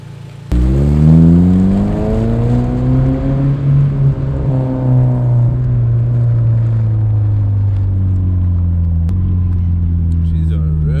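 A turbocharged Honda Civic accelerates as it is driven, its loud engine note climbing steadily and then holding a steady rumble from inside the car, with no talking over it.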